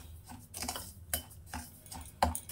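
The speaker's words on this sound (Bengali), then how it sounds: "একটা চামচ দিয়ে ভালো করে মিশিয়ে নিয়েছি" A spoon stirs a semolina batter mixture in a bowl, giving a handful of faint, irregular clinks and scrapes against the dish, with no voices.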